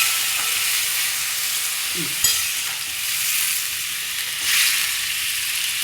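Water is poured onto poppy seed paste in a hot pan, giving a steady broadband hiss and sizzle that swells briefly near the start and again toward the end, close by, with no talking.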